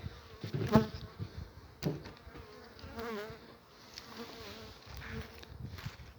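Honeybees hum steadily in an opened beehive during a winter inspection. The close, dense buzzing is broken by a few sharp knocks near the start.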